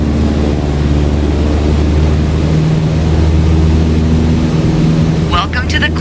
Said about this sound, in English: Alright, go full throttle and start climbing.